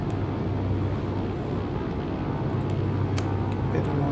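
A TB-30 Epsilon propeller aircraft engine in Microsoft Flight Simulator 2020 throttles up, a steady, dense low drone with broadband roar held at constant loudness throughout, no talk over it.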